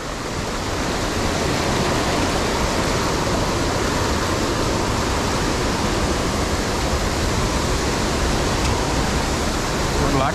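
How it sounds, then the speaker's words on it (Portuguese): A waterfall seen during a long adventure race roars as a dense, constant rush of water, loud and steady throughout with no breaks and no clear talking. "A cascata."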